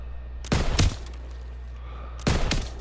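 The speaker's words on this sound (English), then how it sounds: "MG's open fire!" Two short bursts of machine gun fire in a WWII shooter battle at a bridge, each about a third of a second long and well separated over a low steady rumble, with no talk.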